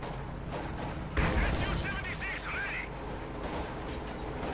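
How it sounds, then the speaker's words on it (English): Artillery bombardment rumbles in a Company of Heroes 2 match, a sharp heavy impact about a second in over continuous battlefield noise, with a voice talking through it. "a few bombardments here, there we go"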